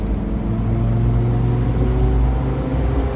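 A restomodded EMC Mercedes 250GD Wolf G-Wagon with manual transmission drives along, its diesel engine droning loud and close in a steady low rumble with shifting harmonic tones.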